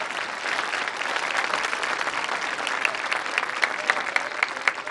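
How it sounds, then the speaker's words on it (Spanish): Steady applause from a crowd at an outdoor political rally in Álamos, Sonora, honoring the state's governor, a dense continuous clapping that holds for the whole stretch with a few sharper claps near the end. "Un aplauso para Claudia"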